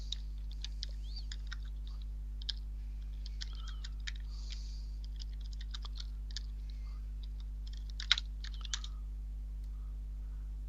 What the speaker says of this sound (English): Let me type into the chat room.